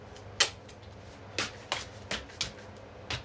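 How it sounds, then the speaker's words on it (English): Strips of tape being pulled and pressed along the inside seam of a Tyvek bag, a few faint sharp crackling rips spaced about half a second apart in a quiet room. "So you just start taping the inside."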